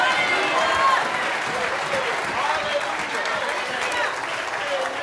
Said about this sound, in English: Clap your hands in New Mexico and let him know you're on the Lord's side.